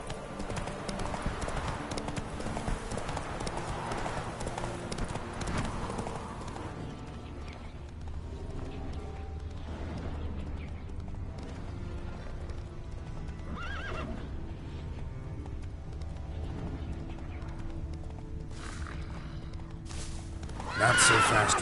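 Roach, Geralt's horse in The Witcher 3 video game, gallops with rapid hoof clip-clops and lets out whinnying neighs, steady throughout with a louder burst near the end.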